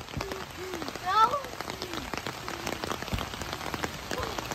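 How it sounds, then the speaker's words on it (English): Pouring rain patters steadily on a trampoline, with people talking and calling out over it throughout. "Why is it raining?"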